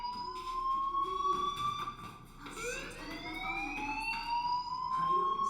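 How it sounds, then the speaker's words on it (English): A fire alarm in the video game Life is Strange wails in rising and falling tones, steady and insistent over a low background hum, with no one speaking. "do you hear that fire alarm?"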